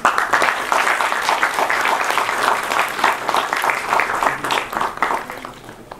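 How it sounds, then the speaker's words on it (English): Audience at a conference inauguration on Indian soft power applauds, a sustained, lively rattle of many clapping hands, loud at first and gradually tapering off toward the end. "Please give a round of applause."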